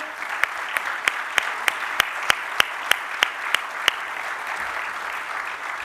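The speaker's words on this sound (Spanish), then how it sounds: "quiero que recibamos por favor con un muy fuerte aplauso" A welcome for senator Alfredo Cornejo at a political event, though here only a single set of hands claps out a steady beat of about a dozen crisp, evenly spaced claps over a quiet room, then stops.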